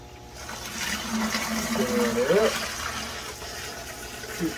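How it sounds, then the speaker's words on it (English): Water is poured into a shrimp tank over wet moss, making a steady, close rushing splash throughout while a person talks briefly partway through. "Put some water in here."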